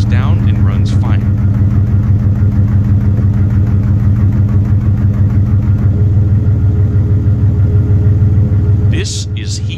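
A Jeep Cherokee XJ engine idles roughly after a warm start while heat soaked, with a steady close rumble and an uneven, pulsing idle. It runs continuously throughout, with brief higher-pitched noises near the start and the end.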